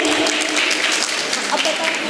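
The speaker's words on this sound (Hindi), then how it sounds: "जोरदार तालियां बजाइए बच्चों के लिए।" Dense applause from a crowd at a community youth gathering, for students who earned degrees, steady and fairly loud throughout, a brief burst of clapping with possible voices mixed in.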